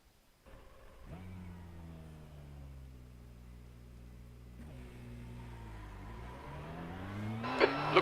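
A race car engine in a sim racing game, pulling away from idle and revving through rising pitched sweeps with gear changes, steady and close, ending in a loud burst.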